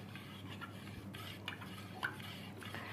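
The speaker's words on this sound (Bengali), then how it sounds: "তো দইটাকে ভালো করে একদম দুধের সাথে মিশিয়ে দিতে হবে" Yogurt culture is stirred into milk with a spoon, making soft, faint scraping and clinking against the pot in a few irregular strokes, close and quiet with no talking.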